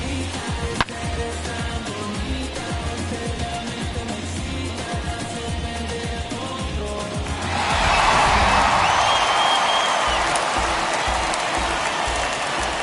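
A home ballpark crowd in the MLB 21 baseball video game swells into a loud, sustained roar partway through, rising out of quieter stadium ambience and holding steady to the end.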